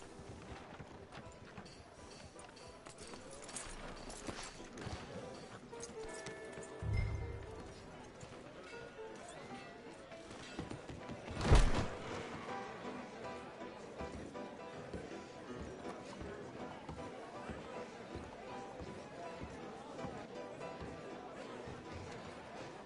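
In Red Dead Redemption 2, a horse's hooves clip-clop steadily and faintly along, with background chatter and a couple of louder thumps partway through.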